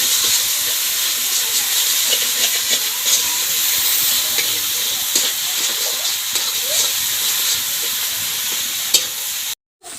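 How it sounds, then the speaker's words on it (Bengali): Masala with salt and turmeric sautéing in a pan for a Bengali-style fish curry, a steady loud sizzle and hiss with scraping stirs throughout, cutting off briefly near the end. "নুন আর হলুদ দিয়ে ভালোভাবে কষে নেব"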